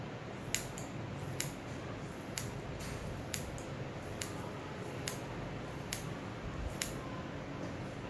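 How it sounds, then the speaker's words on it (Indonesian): Sharp scissors snip through thick hair in a steady series of crisp clicks, roughly one each second, close and clear over quiet room noise during a layered home haircut. "Rambut saya lumayan tebal ya, jadi saya gunting dulu ini"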